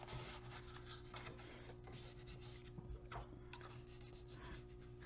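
Stiff folded card stock being creased with a bone folder, giving a steady close-up rubbing and scraping sound with short sliding strokes that repeat throughout, fairly quiet and without any talk.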